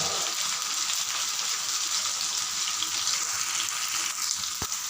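Brinjal bhaji (vangyachi bhaji) sizzling steadily in a pan after red chili powder is added, a continuous close, even frying hiss with no voices.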